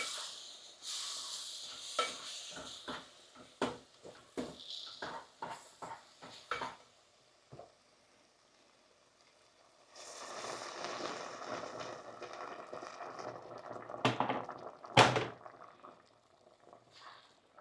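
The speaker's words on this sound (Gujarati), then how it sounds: "લાપસીમાં ગરમ પાણી નાખ્યું છે કેમ કે લાપસી જલ્દીથી ફૂલી જાય." Spoon stirring and scraping in thick lapsi (wheat pudding), sharp intermittent clicks at first, then a longer wet stretch of hot water poured in and sizzling, with a few loud knocks.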